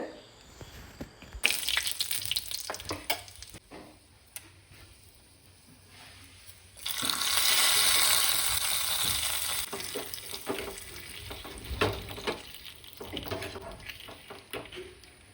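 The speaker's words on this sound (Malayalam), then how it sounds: "കടുക് പൊട്ടിച്ചു കൊടുത്തു വറ്റൽമുളകും കറിവേപ്പിൻ്റെലും ഒക്കെ ഇട്ടൊന്ന് മൂപ്പിച്ചെടുക്കുന്നുണ്ട്" Mustard seeds, dried red chillies and curry leaves tempering in hot coconut oil, giving a loud crackling, hissing sizzle that swells to a dense spatter midway, with scattered pops and clinks throughout.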